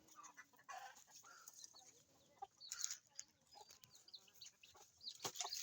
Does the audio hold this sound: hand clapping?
no